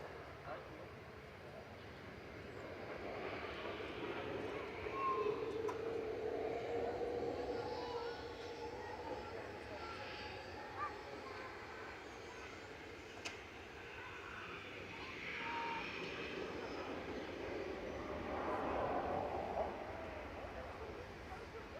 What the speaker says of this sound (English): Joining 2-3 left from uniform here is Gulf Air Flight 4 heading back to Bahrain.